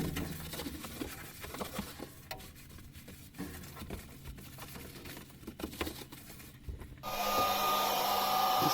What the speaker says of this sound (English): so I thought I'd get an air dryer on it. And just dry before I seal it, just dry everything